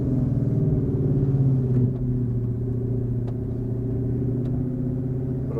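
A 2016 Ford Mustang GT Performance Pack on the move: a continuous low engine rumble and road drone, slightly louder at first and easing to a steadier level partway through, with no talking.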